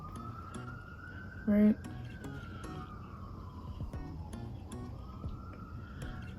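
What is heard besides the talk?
fire truck and police car sirens passing outside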